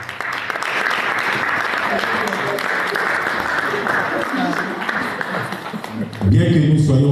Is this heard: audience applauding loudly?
yes